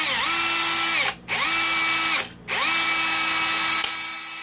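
An Aneerpower 13mm cordless brushless hammer drill runs at a high steady whine, stopping briefly twice and spinning back up each time, in three bursts close by.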